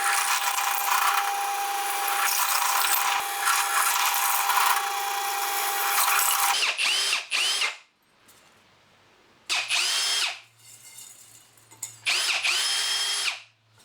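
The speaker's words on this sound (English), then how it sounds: "I've now put an 8mm drill bit in the pillar drill, and I'm now going to drill each of the marked holes." A pillar drill fitted with an 8mm bit bores holes in wood: a long steady grinding whine, then several shorter bursts separated by pauses as each marked hole is drilled, loud and close.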